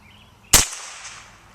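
A Rossi SA22 single-shot .22 LR rifle fires once outdoors, a single sharp loud crack with a short ringing decay, standing alone against faint background noise.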